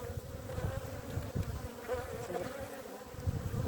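Honey bees buzz at an open beehive, a dense, steady hum of many insects close by, continuous throughout with slight swells in loudness and no voices over it.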